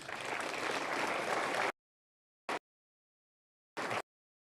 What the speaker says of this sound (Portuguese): essas palmas